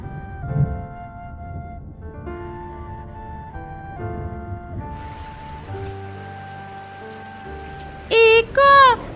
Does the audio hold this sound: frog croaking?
no